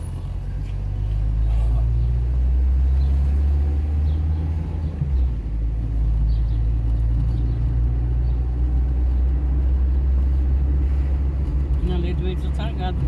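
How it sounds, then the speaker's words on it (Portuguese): A truck drives past in a heavy storm of rain, strong wind and hail in Paraguaçu Paulista, a loud, deep engine rumble that swells and lingers, with a voice faintly underneath. "É outro caminhão aí."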